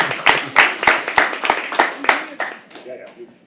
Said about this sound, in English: Keep clapping. A little more.